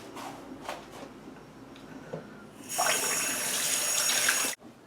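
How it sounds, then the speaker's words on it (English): Water from a kitchen tap runs into a sink while hands are washed, a steady bright rush beginning midway and ending abruptly, after a few quieter handling sounds and brief speech. "I'm going to wash my hands."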